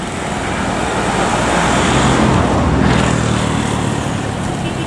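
A truck loaded with chili peppers overtakes a bus on the road, producing a loud, continuous roar of engine and road noise that swells slightly as it passes.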